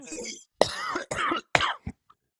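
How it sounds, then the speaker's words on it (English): A host at a live virtual community event coughs several times into the microphone, sharp close bursts in quick succession separated by short gaps, with a brief bit of voice before them. "I have to cough"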